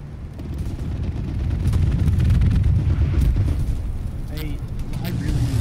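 Incoming strafing run in the World War II shooter Hell Let Loose, a heavy continuous rumble of explosions building and sustaining loud and close, with a voice talking over it.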